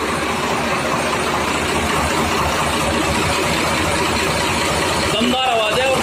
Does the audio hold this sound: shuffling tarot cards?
no